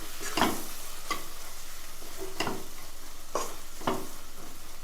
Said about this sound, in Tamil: இந்த மசாலாவுடைய பச்சை வாடை மாறுற வரைக்கும் ஒரு 1 நிமிஷம் இதை நல்லா வதக்கிக்கும்